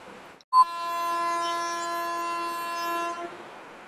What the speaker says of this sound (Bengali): আর এখানে এসে পৌঁছালো জলপাইগুড়ি শিয়ালদা হামসাফার এক্সপ্রেস।